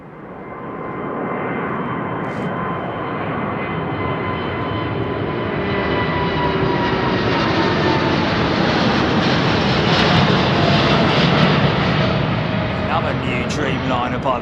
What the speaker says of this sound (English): Dreamliner by the looks of it.